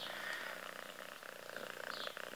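A cat purrs steadily and close up, a soft continuous rumble with a rapid flutter that runs the whole time.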